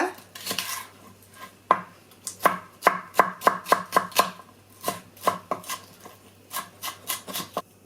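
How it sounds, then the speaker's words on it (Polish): Knife dicing bell pepper into small cubes on a cutting board, with close, sharp, rhythmic chopping taps in quick bursts separated by short pauses, with no voice over them. "Na początek kroimy sobie w drobną kostkę paprykę."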